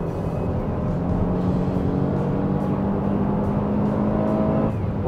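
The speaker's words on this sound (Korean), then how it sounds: "가속을 한번 해보겠습니다" A Kia Carnival minivan's gasoline engine hums steadily and climbs in pitch as it accelerates, heard from inside the cabin with a low, continuous drone.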